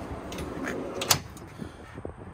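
A storage drawer slides open on a Pro Trade series tradesman trailer, a short scraping rumble peaking sharply once near the middle against a steady outdoor background.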